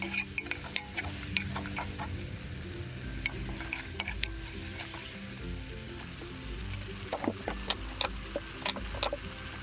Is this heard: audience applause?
no